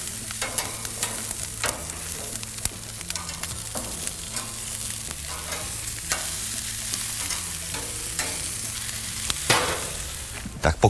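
Chicken wings sizzle on a grill in a steady, close crackling hiss, with sharp pops and clicks scattered through it and a low, faint hum underneath.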